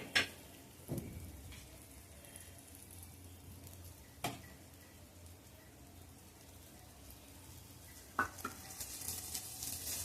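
Eggplant slices frying in oil in a pan, giving a continuous hissing sizzle with a few brief clacks of a utensil, close by and without talk.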